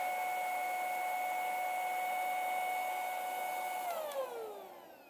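A portable car and house vacuum cleaner whirs steadily with a high motor whine, under 80 dB, then the pitch drops as it powers down near the end.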